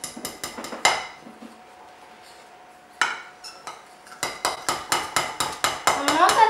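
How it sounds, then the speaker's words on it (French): Sugar and butter are mixed in a bowl, with a utensil scraping and clinking against its sides in quick regular strokes, a pause in the middle, then a faster run of taps. "il faut blanchir, c'est-à-dire bien mélanger le sucre et le blanc"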